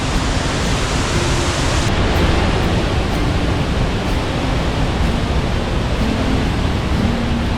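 Heavy rain-swollen waterfall in Norway roaring steadily and loudly, a dense unbroken wash of falling water filling the whole clip with no voices.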